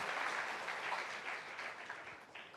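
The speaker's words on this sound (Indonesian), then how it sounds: "kita berikan aplaus dulu untuk Mbak Popi" Steady audience applause in a TV talk show studio, a dense wash of clapping hands at moderate distance that holds evenly, then thins slightly at the end.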